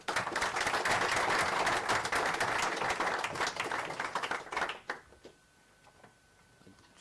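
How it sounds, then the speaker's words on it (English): An audience at a talk on migration and public security claps in a dense, sustained burst of applause that thins into scattered claps and fades to quiet room noise. "Please give our speakers a big round of applause."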